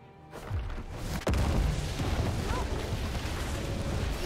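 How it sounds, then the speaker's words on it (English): A turret being destroyed in a League of Legends match: a heavy boom bursts in and settles into a sustained, rumbling roar under game noise. "Red team's turret has been destroyed."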